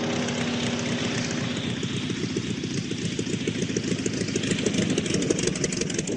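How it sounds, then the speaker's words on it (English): A vehicle engine drones steadily as a radio drama effect, with rapid rhythmic rattling and knocking as it rolls over potholes, loud and continuous. "We're going to rattle a bit as we roll over the potholes."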